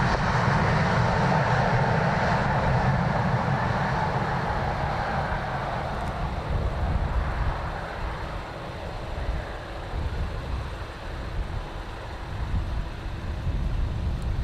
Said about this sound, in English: Ryanair from Edinburgh